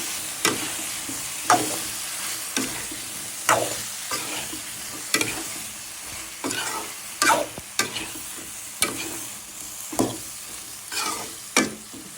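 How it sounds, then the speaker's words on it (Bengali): Potatoes and eggplant sautéing in a pan for a dried-fish curry, with a constant sizzle broken by repeated sharp scraping stirs of a spatula at an irregular rhythm, close and fairly loud. "দিয়ে দিব আলু আর বেগুন কষিয়ে নেব"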